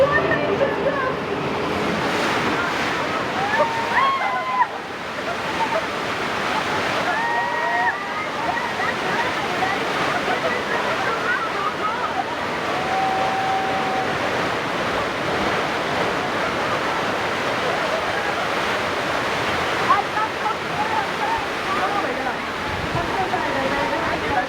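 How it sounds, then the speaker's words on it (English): Broken water main gushes and roars during a Universal Studios Hollywood tram tour effect, a continuous loud surging rush filling the whole stretch, with voices and crowd sounds mixed underneath. "The water main just broke!"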